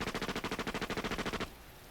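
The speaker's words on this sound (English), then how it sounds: "he heard the first sounds of gunfire" Rapid automatic gunfire from a squad skirmish in a visual novel game scene, a fast regular burst of about fifteen loud shots that cuts off abruptly, leaving a faint hiss.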